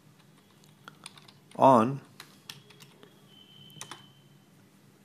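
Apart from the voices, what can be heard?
typing on a computer keyboard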